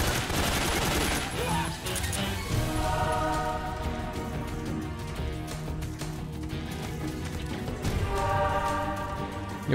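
Gunfire aimed at the player in Metal Gear Solid 3, a steady, dense crackle of shots running nearly the whole time, with rain-like hiss in the background and heavier bursts at the start and end.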